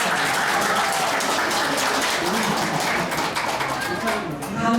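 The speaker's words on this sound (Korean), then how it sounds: "모두 큰 박수 부탁드립니다" An audience at a March First Independence Movement Day ceremony applauds, dense and loud, sustained for several seconds before it begins to thin out.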